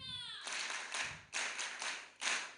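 A school and community crowd at a live broadcast claps in a few bursts of hand claps. The bursts come roughly every half second and sound fairly quiet and distant, with no voices on top.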